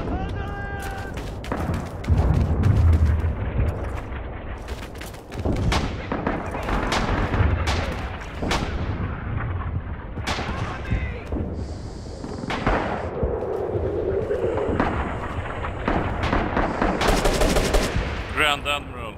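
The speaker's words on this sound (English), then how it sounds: "Incoming artillery." Rising Storm 2 combat: rapid machine-gun bursts and sharp rifle shots crack over heavy, booming artillery impacts in a continuous, loud barrage, with voices talking now and then over the din.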